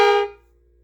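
A single short reedy chord from a khaen, imitating a train horn blast, bright and loud at first, then quickly fading out.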